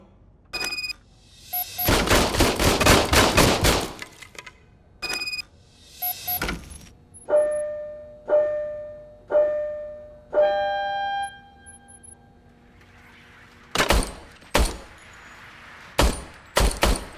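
Gunfire from an old, serviced service pistol in the video game RoboCop: Rogue City: a rapid volley of sharp shots, then tonal electronic beeps, followed by a few isolated loud shots spaced apart near the end.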